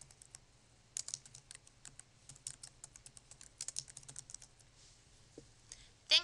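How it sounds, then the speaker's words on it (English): Someone types a file name on a computer keyboard. Quick, light key clicks come in short bursts with brief pauses between them, heard close and faint. A sharper click lands at the end. "In the file name box, type the name you would like to give the file."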